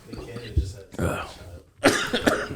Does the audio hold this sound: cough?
yes